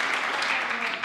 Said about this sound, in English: the crowd love the century